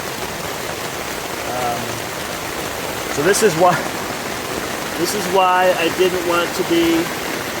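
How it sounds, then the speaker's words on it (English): Heavy rain pours down steadily during a thunderstorm on the Appalachian Trail, a constant hiss filling the background while a person talks close by. "This is like the third wave of rain that's come through."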